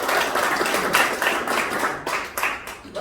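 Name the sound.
audience applause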